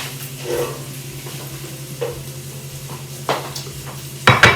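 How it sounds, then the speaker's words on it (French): Carrots go into a sizzling pan for a Karmeliet beer carbonade, with a steady close frying hiss under scraping stirs and a few sharp utensil knocks against the pan at the end. "On peut venir y rajouter tout de suite les carottes."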